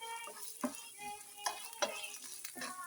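Peanuts, cashews and roasted gram frying in a pan, a crackling sizzle broken by sharp scraping stirs and spatula knocks every half second or so, close and fairly quiet.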